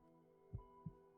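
Heartbeat effect from the Attack on Titan anime, a pair of soft, low, thudding beats over a faint steady hum, with no talking.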